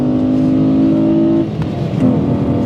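A 1990s Mazda Lantis V6 engine holds a steady high-revving drone, then the pitch drops briefly before climbing again, loud and close.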